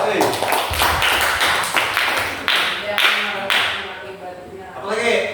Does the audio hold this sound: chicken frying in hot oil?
no